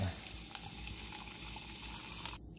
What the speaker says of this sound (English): Then we pour in the bubbly.